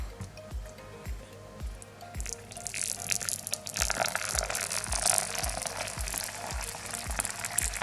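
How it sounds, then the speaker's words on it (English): Boiled hot water poured onto a mug of couscous, a steady hissing, trickling pour growing louder and fuller midway, with soft regular thumps underneath throughout and no talking. "I'm just going to add the water now"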